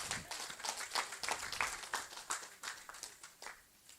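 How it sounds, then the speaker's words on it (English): A seated audience at a Parliament House anniversary ceremony applauds pioneer legislators, with dense, steady clapping throughout that sounds fairly distant and soft. "a big round of applause for our pioneer legislators."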